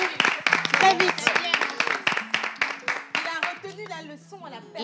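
A studio audience at a television show claps in quick, uneven bursts, with close voices talking over the hand claps until they thin out near the end.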